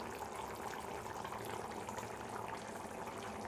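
Chicken curry boiling vigorously in a pot, a faint, steady bubbling and seething that runs unbroken throughout, with no voices.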